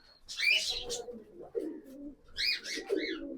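A red-type pigeon coos nearby in two soft, throaty bursts with a gap between them, heard alone at moderate volume.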